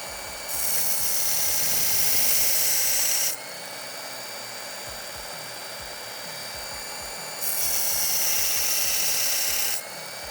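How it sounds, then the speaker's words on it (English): Work Sharp powered knife sharpener grinding a pocket knife with a DLC-coated blade, two loud bright grinding passes with a motor hum running steadily between them, no voices. "Let's fire up the work sharp"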